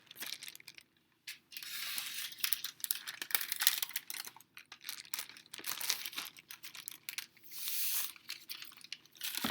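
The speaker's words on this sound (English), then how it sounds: "We are now going to add our sodium carbonate to our plastic bag of water." Sodium carbonate powder is shaken from a container into a plastic bag of water for a conservation-of-mass lab, heard as bursts of crinkling plastic and rustling, close and moderately loud, with short pauses between.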